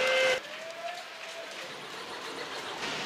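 A referee's whistle ends the first half of a Nîmes versus Paris handball match, a single loud blast over a steady roar of arena crowd noise.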